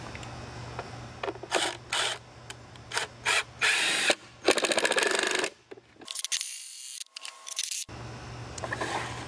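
Thin screws being driven into wood while building a wooden worm tower, a series of short buzzing drill bursts with pauses between them, close and fairly loud, with no talking.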